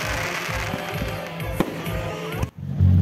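Fireworks at a food festival in a park on Samal island, steady crackling and popping with sharp bangs over crowd noise, continuous and fairly loud, with people talking nearby.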